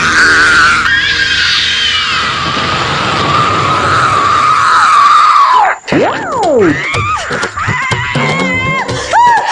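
A woman's long, loud scream rings out over a few seconds, breaking off into shorter frantic vocal bursts and clatter.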